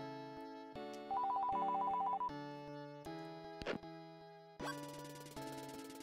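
Electronic phone ring from the SNES game Vegas Stakes, a bright chiptune trill of repeating beeps layered over looping synth music, steady and clear with no talking.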